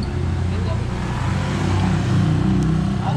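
An off-road vehicle engine drones steadily at close range and swells a little as it shifts into gear, under ongoing voices and outdoor rumble.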